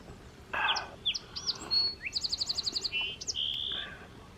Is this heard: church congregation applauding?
no